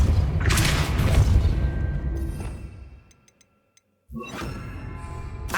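Depulso spell effects in a fantasy wizard game: a loud, rumbling burst fading over about three seconds, a few light ticks in near silence, then another sharp, dense blast of sound.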